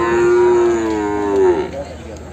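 A Jafarabadi buffalo, a seven-month pregnant cow at a livestock sale, lets out one long, loud, close-up moo that falls in pitch before tailing off.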